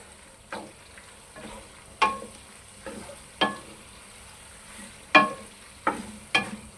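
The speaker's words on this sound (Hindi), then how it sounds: "अब हमने इसको मिक्स कर देना।" Chicken macaroni stirred in a pan, a spoon scraping through it in about eight separate strokes spaced a second or so apart, with a faint sizzle underneath and no talk.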